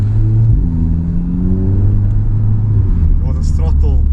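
An Audi TTS accelerates under way, its engine note rising through a gear change with a steady rumble, loud and close, as a person talks over it.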